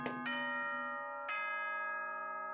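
Chime from the video game Danganronpa: Trigger Happy Havoc, two sustained bell-like tones struck about a second apart, ringing clearly alone with no talk, followed by a sharp onset at the very end.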